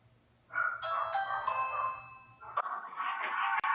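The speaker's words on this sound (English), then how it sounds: "we installed the new Ring video doorbell." A bright electronic chime from a Ring video doorbell rings several ascending tones close by, then fades into a softer hum with faint clicks.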